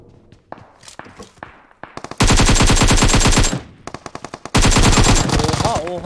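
Rapid automatic gunfire from a PUBG Mobile match, loud and close, in two long sustained bursts with scattered single shots and footsteps between; voices talk over parts of it.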